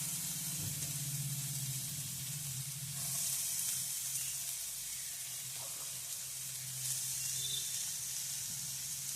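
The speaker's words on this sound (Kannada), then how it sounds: "ಬೀನ್ಸು ಮತ್ತು ಮೆಣಸಿನ್ಕಾಯಿ ಎರಡನ್ನು ಫ್ರೈ ಮಾಡ್ಕೊಳ್ಳೋಣ" Chopped green beans and green chillies frying in a pan; a faint, continuous sizzle and hiss with a low hum underneath, steady throughout and without speech.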